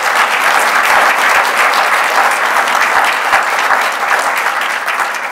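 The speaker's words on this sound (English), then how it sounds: "Can we give them a round of applause as well?" An audience at a school service pin and retirement ceremony gives a round of applause, loud and continuous, with dense clapping sustained evenly to the end.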